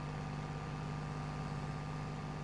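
A Swaraj 855 tractor engine in Farming Simulator 22 drones in a steady, unbroken low hum with a constant pitch, heard alone.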